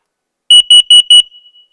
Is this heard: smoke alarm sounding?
yes